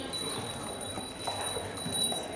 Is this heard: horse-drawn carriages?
yes